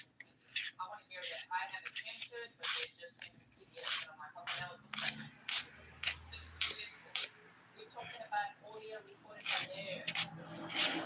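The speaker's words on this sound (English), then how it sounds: "I'm still using the 180 grit side to file the bottom of my nail too." The underside of a fingernail is filed with the 180 grit side of a nail file in short, repeated rasping strokes. They come in quick bursts close to the mic, with brief pauses between them.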